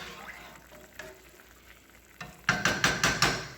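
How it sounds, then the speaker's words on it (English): Warm milk poured onto flour in a pot for shrimp and crawfish bisque, then stirred in a quick rhythmic series of five or six scraping, sloshing strokes after a soft, quiet start. "So I'm about to add my milk. I already have my flour in here."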